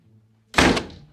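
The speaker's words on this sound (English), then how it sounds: "Close the door." A door closes with a single loud, close thud in a home, set against a quiet room.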